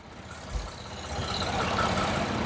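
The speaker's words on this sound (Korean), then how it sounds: "마지막으로 엔진 사운드 체크하고 영상 마무리할게요" A Chevrolet Colorado Z71-X pickup truck engine idles with the hood open at a steady low rumble, growing slightly louder and fuller partway through, with a brief low thump early on and no talking.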